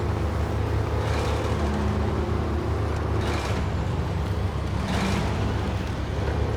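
A fully loaded truck grinds through deep mud in Snowrunner, its engine droning steadily with low rumble throughout and several brief surges of splashing and spinning tyres.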